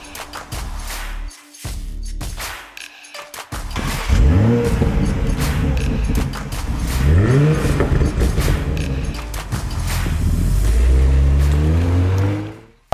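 A 2020 Toyota GR Supra with a 3-litre inline-six making 340 horsepower revs hard and pulls through several rising gear sweeps, loud and close, with brief lifts between shifts.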